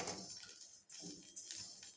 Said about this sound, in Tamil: கொத்தமல்லி பாருங்கள் இப்படி சட சடன்னு சத்தம் கேட்குது